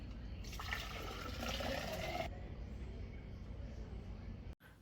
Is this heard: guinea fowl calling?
no